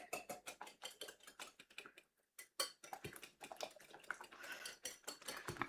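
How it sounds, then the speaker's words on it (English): Rapid metal whisk ticking against a bowl while milk is beaten in, a quick steady clatter that pauses briefly and then resumes, close and fairly quiet. "And then we whisk."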